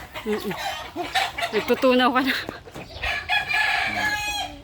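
White Kelso hens on a small farm cluck and a rooster crows loudly and close by, with a person speaking briefly at the start.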